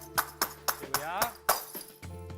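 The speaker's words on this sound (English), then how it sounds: "Man, he's smashing that glass." Thick glass being smashed repeatedly, a series of sharp crashing impacts about every quarter second, with a ringing, wavering tone sweeping through the middle, fairly loud over music mixed underneath.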